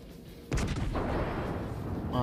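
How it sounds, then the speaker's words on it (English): Naval gunfire from a warship in World of Warships, a sudden loud booming salvo that rolls on into a dense, rumbling roar lasting a couple of seconds. "Start getting some shots off."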